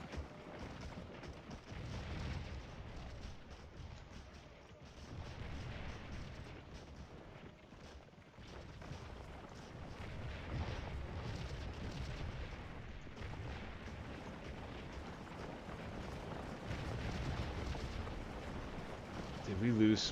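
Artillery fire in the video game Scourge of War during the Battle of Stones River, a rolling series of low booms and rumbling blasts at moderate distance, sustained throughout and swelling near the end.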